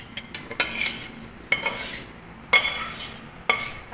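Mango pulp being spread across an oiled plate for homemade aamsotto, giving a run of soft scraping strokes and light utensil clinks against the plate, close up, with several sharper taps spaced through the stretch and no talking.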